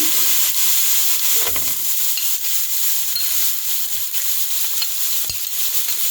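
Steady, bright sizzling of chopped onion frying with garlic in a hot pan for pizza sauce, with occasional soft stirring scrapes, no talking.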